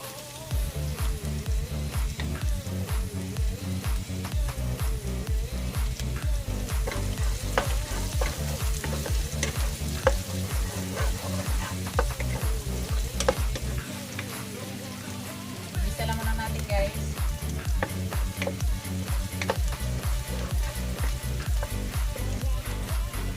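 Onion and garlic frying for squid adobo, a steady loud sizzle with repeated stirring scrapes in the pan throughout, briefly dropping out near the middle before resuming.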